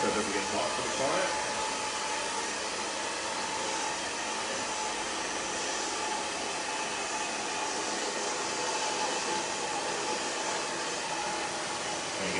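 Close, loud, unbroken rush of a hair dryer in a salon during a blunt bob styling, holding an even level throughout.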